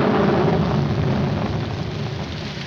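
Rain falling in a scene from the 1947 film My Favorite Brunette, a steady hiss and low rumble filling the whole moment and easing slightly toward the end, with no speech.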